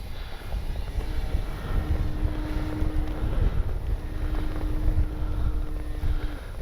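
An Avios Grand Tundra RC plane takes off into strong wind, its electric motor holding a thin steady whine under heavy, constant wind rumble buffeting the microphone, with no voices.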